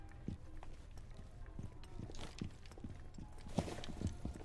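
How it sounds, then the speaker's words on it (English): Footsteps in the Rainbow Six Siege video game: a run of quick, uneven thuds from players moving nearby, heard over a busy game soundscape with no speech. "Too many footsteps"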